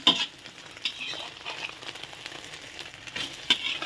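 An egg omelette frying crisp in oil in a pan, a close, continuous sizzle and crackle with occasional scraping stir sounds, alone without talk.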